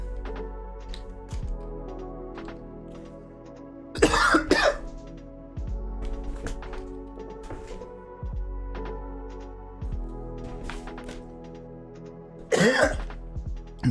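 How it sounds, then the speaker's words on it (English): A streamer coughs and clears their throat in two harsh bursts, one early and one near the end, each loud and close against a quiet room with steady low background hum between. "I'm still coughing up the last of that lung button."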